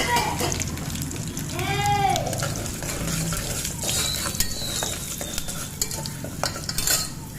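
Spices fry with golden peanuts in a pan for tomato bath, a soft continuous sizzle with scraping stirs and a few light utensil clinks, while a person talks over it.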